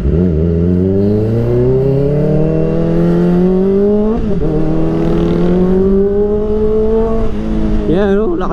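Kawasaki ZX-4RR motorcycle with a changed front sprocket revving hard and accelerating through the gears, engine pitch climbing steadily with two brief dips at the shifts, loud and close throughout.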